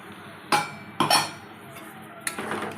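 A utensil clinks and scrapes against a pan while a potato and pointed gourd poppy-seed curry is stirred, giving three separate bursts of metallic clatter with quiet gaps between them.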